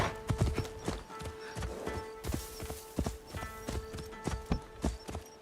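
A horse gallops in a video game, its hooves drumming in a quick, steady clip-clop rhythm close up, with sustained tonal music underneath.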